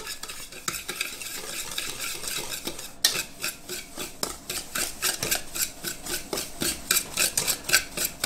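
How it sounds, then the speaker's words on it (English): A whisk scrapes steadily around a bowl of dry cornbread ingredients, fast rhythmic strokes with a brief pause midway, close and clear with no talking. "And now let's get them all whisked up."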